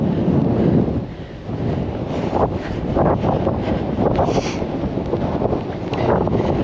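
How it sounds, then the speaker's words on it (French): Strong mountain wind at Torres del Paine roars and buffets against the microphone, a constant loud rush with gusty swells and no voices. "Et il commence à avoir beaucoup de vent."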